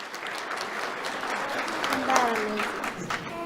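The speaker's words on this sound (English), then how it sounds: "Let's have a round of applause for Valentina" An audience at a school awards ceremony gives a round of applause, fairly faint and steady clapping with a voice speaking over it.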